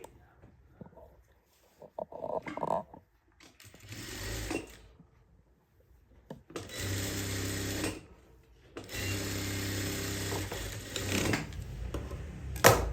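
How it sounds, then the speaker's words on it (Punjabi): A sewing machine stitches the lining of a salwar in several bursts: a short run early on, then two long steady runs of rapid mechanical whirring, with brief pauses and small handling clicks between them. "ਹੁਣ ਇਹਦੇ ਉੱਪਰ ਵੀ ਆਪਾਂ ਸਲਾਈ ਲਗਾਵਾਂਗੇ"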